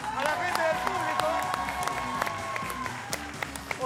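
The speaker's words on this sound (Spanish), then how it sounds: "un aplauso a la gente del público" Audience applause for volunteers called up from the crowd at a live show, scattered clapping and crowd noise with sharp individual claps, mixed with talking and some tonal background sound.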